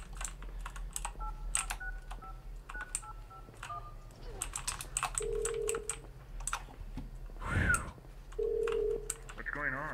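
Phone tones in the Krampus Christmas horror video game as the character calls her parents: a run of short dialing beeps, then sustained ringback tones, with someone talking over them throughout.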